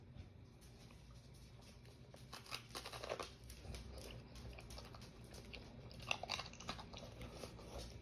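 Someone chewing a hot, freshly baked Oyster Rockefeller, with soft crunchy bites and mouth sounds close to the mic over a low background hum; no talking.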